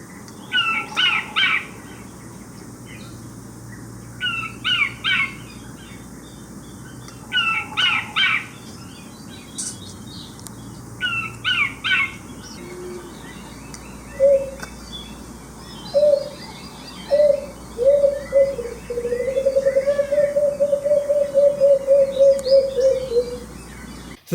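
Recorded calls of extinct Guam bird species play one after another at Ritidian Wildlife Refuge: bursts of high chirps separated by pauses, then a low cooing note rising into a sustained, wavering whistle.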